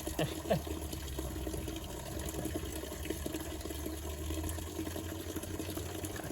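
A roadside spring barely flowing during a drought gives a faint, steady trickle of running water. It sits low under a constant broadband background with a low rumble, and there is no talk.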